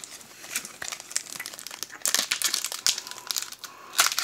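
Foil wrapper of a Pokémon card booster pack from a dollar store being torn open, with close, busy crinkling and crackling bursts that grow louder toward the end and no voices.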